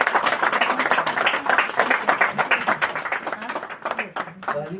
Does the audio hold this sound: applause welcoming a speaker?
yes